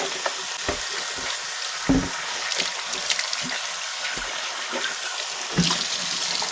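Running tap water splashes over a coffee pot cover being washed, a continuous hiss broken by sharper splashes and clunks, close and moderately loud.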